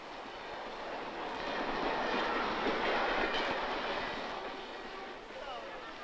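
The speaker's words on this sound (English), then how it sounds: "The railway station, half an hour from Peking." A train rolls through a railway station half an hour from Peking, a steady broadband rumble swelling to its loudest midway and easing off toward the end, with faint voices in the background.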